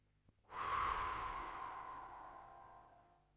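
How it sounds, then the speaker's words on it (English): A single slow, audible exhale through the mouth follows a brief catch of breath, a steady airy rush that swells quickly and fades gradually over about three seconds, close and alone in a quiet room. "And now just exhale slowly through your mouth."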